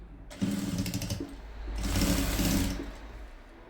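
A sewing machine stitches the hem of a lehenga skirt in two close bursts of rapid whirring, the second longer and louder, separated by a short pause.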